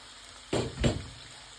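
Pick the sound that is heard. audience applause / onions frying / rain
onions frying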